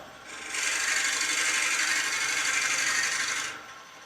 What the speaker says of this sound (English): take it up to where it is, start the lathe, and then wind in a bit more